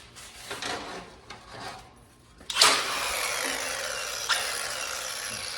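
Flap disc grinder knocking roughness off an aluminum skid plate: faint rubbing and tool noise at first, then a sharp bite as the disc hits the metal and a steady grinding hiss, with a brief harder scrape partway through.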